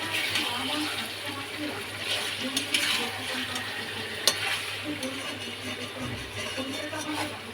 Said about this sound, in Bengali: এবার আলুটা দিয়ে জল ঢেলে দিই